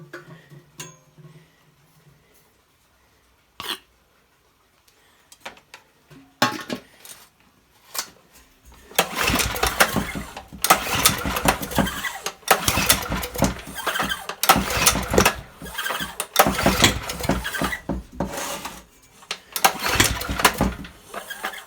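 A Honda generator engine is pull-started repeatedly, giving scattered pulls and brief sputters that build into irregular popping, coughing bursts of uneven loudness, close by and with no talk.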